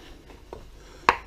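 A kitchen knife cuts into a refrigerated onion on a board while making guacamole: a couple of faint soft taps, then one sharp, close chop near the end, with no talking.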